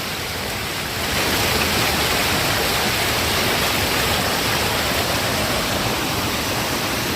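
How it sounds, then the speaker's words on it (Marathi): Monsoon rainwater rushes through farm fields in a village, a dense, continuous broadband wash that swells after the first second and stays loud and steady throughout. "पावसाचं पाणी वाहत आहे शेतीमधून"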